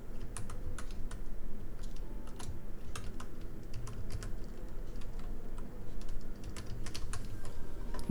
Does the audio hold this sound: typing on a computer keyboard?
yes